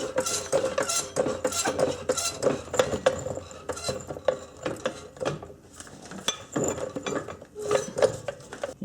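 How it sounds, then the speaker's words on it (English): A jack is pumped under a 1990s Honda Accord to raise its front suspension, giving repeated close metallic clicks and clinks in an irregular ratcheting rhythm. "And you just want to jack the suspension up a bit."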